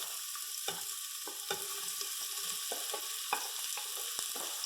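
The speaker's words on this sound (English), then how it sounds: "Alright, I have some oil heating. Now we're going to brown the onions first." Onions browning in hot oil, a continuous bright sizzle broken by occasional sharp ticks and pops from stirring, close and steady throughout, with nobody talking.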